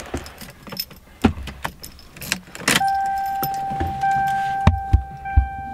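Keys jangle and rattle near a 1992 Lexus SC400 coupe, then the engine cranks and settles into a steady idle, with a few more clicks and knocks over the running car; no talking.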